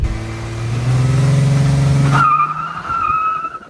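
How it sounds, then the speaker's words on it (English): A minivan's engine revs hard as tires squeal and skid loudly in a burnout attempt, then the roar drops away and a high tire screech lingers alone. "Can this dad car do a burnout?"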